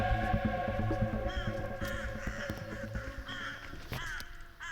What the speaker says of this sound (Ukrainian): це ворони каркають